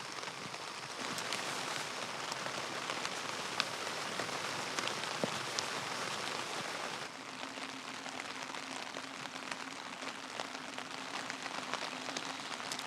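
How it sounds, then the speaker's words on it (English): Steady rain drums on a tent and tarp during a rainy camping morning, a dense, constant patter close by with no voices, shifting slightly in tone partway through. "Listening to the rain is almost like therapy."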